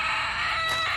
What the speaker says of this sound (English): now having the chickens in here has been good